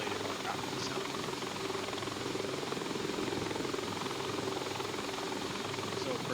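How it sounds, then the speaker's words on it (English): A four-blade Bell 412 helicopter in Flight Simulator X gives a continuous, even rotor and turbine wash at low volume with a fine chopping texture, steady throughout. "they got it close to what a 4-bladed helicopter would sound like"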